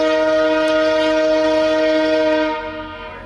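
VIA Rail train 88 blares its horn in one loud, sustained chord right nearby, holding steady for over two seconds before fading as it passes.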